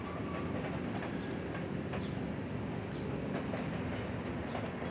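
A train passes at a distance at Horseshoe Curve, Altoona, a faint steady rumble with soft clicking of wheels on rails throughout.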